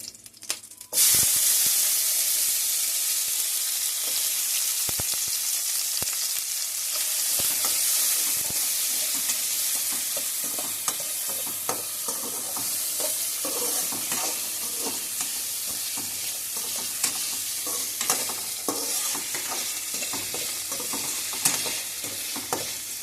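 Tomatoes frying with dried and green chillies in a pan for a ridge gourd chutney, a loud steady sizzle that starts abruptly and carries on with frequent spoon scrapes and clinks of stirring throughout.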